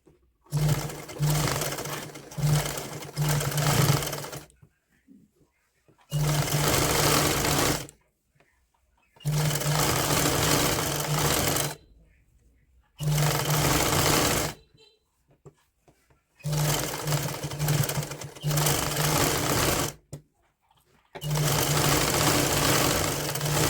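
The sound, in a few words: sewing machine stitching woollen fabric waistband hem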